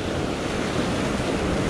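Ocean surf breaking on a rocky sea-cliff shore at Little Bay, Sydney, in wind and rain, a steady loud wash of crashing water and wind noise with no talking.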